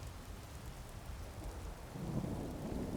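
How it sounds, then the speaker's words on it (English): Steady heavy rain with a deep rolling thunder rumble swelling toward the end, from the video game Skyrim during a siege battle, dense and continuous with no talk. "At least the rain provides some cover."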